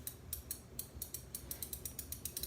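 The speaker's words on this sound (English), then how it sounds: "It's a very smooth operating ratchet wrench" A Capri Tools 100-tooth ratcheting wrench, 19 millimeter, clicks in a fast, even series of sharp metallic ticks, close and fairly quiet, with no talking.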